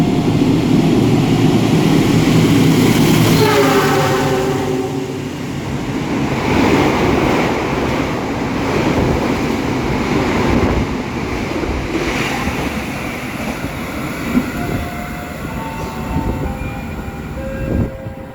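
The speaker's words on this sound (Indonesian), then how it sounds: "Ini kereta api Sembrani melintas langsung stasiun Karawang." The Sembrani passenger train speeds straight through Karawang station without stopping, a loud continuous rushing roar of wheels and rushing air with brief tonal notes rising above it.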